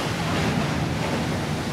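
Ocean surf washes up the beach at Paradise Cove in Malibu, a steady, loud, close rush of breaking waves and foam with wind noise buffeting the microphone throughout.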